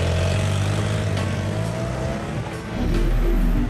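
A motorcycle revs and pulls away, its engine droning loud and close, dipping briefly before surging again as it rides off.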